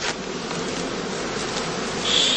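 Honey bees buzz steadily at a heathland skep apiary during heather bloom, a close, continuous droning hum with no talk, swelling slightly near the end.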